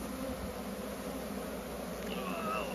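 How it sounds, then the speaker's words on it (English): Bees buzz around an open beehive honey super, a soft, continuous close hum with a faint passing whine near the end, all under steady low background noise. "Lots of bees now. They're getting wild."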